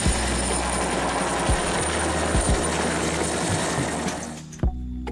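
A small motorized toy whirs continuously at a high buzzing pitch, loud and close, then cuts off near the end with a soft thump.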